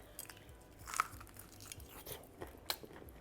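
Crispy salt and pepper prawns being eaten, with faint close crunching bites and chewing scattered through a quiet moment, no talk.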